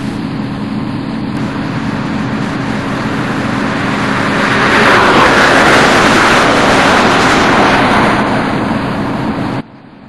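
A First TransPennine Express passenger train running toward Leeds, a loud, steady broadband rumble and roar from inside the carriage with a constant low hum, swelling slightly midway before dropping abruptly at the end.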